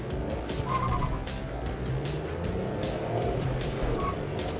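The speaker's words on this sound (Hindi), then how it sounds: "पहले गाड़ी चला के देखते हैं" A 2024 Tata Altroz Racer with a 1.2-litre turbo petrol engine is driven, its engine and road noise forming a steady, low drone throughout with no talk over it.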